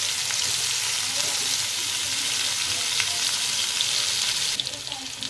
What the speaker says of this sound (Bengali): গ্যাসের আঁচটা একটু জোরে করে দিয়ে ভালো করে ভেজে নেব আলু পটলটা।